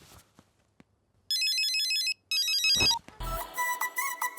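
A telephone rings with two bursts of trilling electronic bells, followed by a busier jangle of ringtone and clatter, fairly close and without talk.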